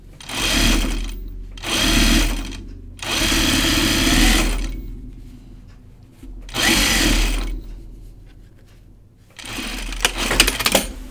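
A sewing machine stitches a jacket in five separate runs, each loud, steady burst lasting one to two seconds with short pauses between.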